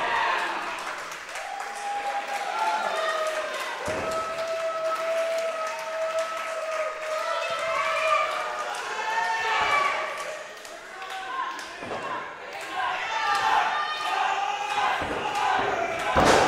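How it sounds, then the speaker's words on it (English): A wrestling crowd at the TrimTab venue roars steadily behind Stunt Marshall in a bout against Rolando Perez, with cheering, clapping and chanting sustained throughout and swelling in bursts, while a commentator speaks over it. "The crowd at TrimTab rallies behind Stunt Marshall, trying to bring the hard target back into this."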